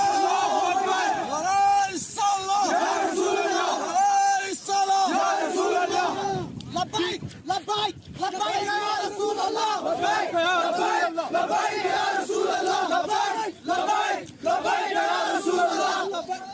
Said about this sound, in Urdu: انہوں نے کئی سارے نعرے شعرے لگائے، ریلیاں نکالی، لبیک یا رسول اللہ، اللہ اکبر۔